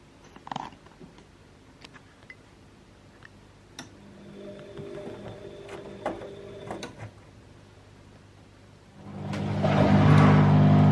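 A Bosch Exxcel 1400 Express WFO2865GB washing machine on a 30°C woollens cycle gives scattered quiet clicks and ticks, then its drain pump starts with a sudden steady hum and rushing water near the end.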